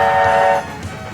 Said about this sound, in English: Whitehurst gave a quick toot on the whistle to show that everything was okay.